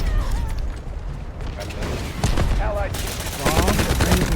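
Rapid gunfire in the Delta Force video game, bursts of automatic shots over a continuous rumble of battle, growing denser and louder toward the end, with voices talking underneath.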